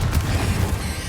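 A Confringo blast spell explodes in the Hogwarts Legacy video game, a brief, loud, low booming burst that rumbles for about a second.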